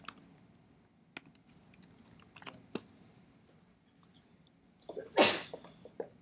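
A single sharp sneeze bursts out near the end, loud and close, after a stretch of scattered keyboard typing and small clicks in a quiet room.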